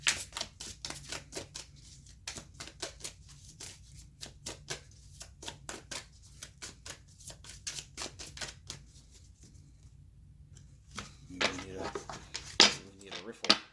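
Tarot cards are riffle shuffled, giving rapid, crisp flicking clicks in quick runs with brief gaps, fairly quiet and close, ending in a louder flurry.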